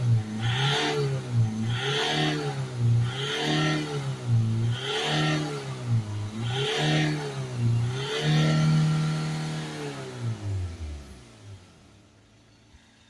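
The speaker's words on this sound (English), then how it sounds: "Now we're going to start the van up. We'll give it some revs," A Ford Transit MK7 2.2 diesel van engine revved repeatedly, with about six rhythmic rises and falls in pitch before a longer held rev that dies away, close and fairly loud with no talk.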